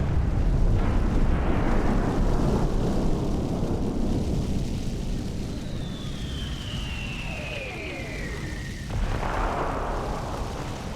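Mortars firing at towers in the PC game Cossacks: Back To War, a continuous roar of blasts and rumbling impacts with a descending whistle of an incoming shell, dense battle noise throughout.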